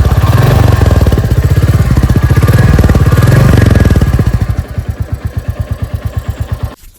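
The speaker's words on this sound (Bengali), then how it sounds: "আমি থ্রটল দিয়ে দেখিয়ে দিচ্ছি" A Royal Enfield Battalion Black 350 motorcycle engine revs hard with the throttle, a loud sustained roar that drops to a steady pulsing idle before cutting off.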